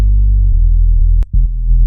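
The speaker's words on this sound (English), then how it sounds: "without any processing it sounds like this" Raw, unprocessed swag sub bass sample from a sample pack, a steady low sustained tone with a few note changes and a brief dip near the end, loud and solo.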